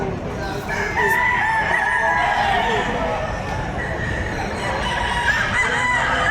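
Roosters crow and chickens cluck through a busy Padre Garcia livestock auction market in Batangas, several birds overlapping at mid distance amid steady crowd murmur and voices talking throughout.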